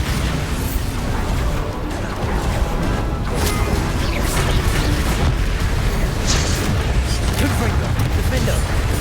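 Bombarda explosions from a Harry Potter video game's spell combat blend into a dense, continuous barrage of loud blasts, crashes and bursts with no pause throughout.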